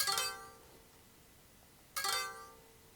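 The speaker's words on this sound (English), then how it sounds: "Now watch carefully how I pluck the strings." Two separate plucks of a taut racket string ring out with a bright, twangy tone, each decaying slowly, about two seconds apart.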